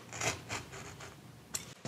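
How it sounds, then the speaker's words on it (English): A marking knife drawn along an already scribed line in wood for a Shaker wall cabinet, giving several light, quiet rasping strokes heard up close with no talking. "I'm going to put my marking knife in the edge that we just scribed and make a few light passes."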